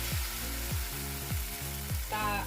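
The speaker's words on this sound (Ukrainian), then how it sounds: "Тепер ми будемо смажити млинці для нашого кабачкового торту" Pancake batter for a zucchini cake sizzles steadily in a frying pan, a continuous hiss broken by soft rhythmic thumps, with a brief voice at the end.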